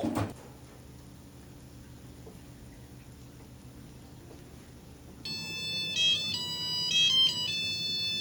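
An electric bungeoppang (fish-shaped pastry) maker's timer chirps out a bright, tonal melody of repeated beeps partway through, following a quieter stretch of faint background noise.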